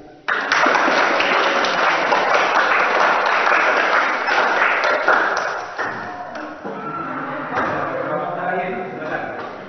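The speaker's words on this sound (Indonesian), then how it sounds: "Ya, tepuk tangan." Dense, loud applause from a classroom of students, sustained for several seconds before thinning slightly toward the end.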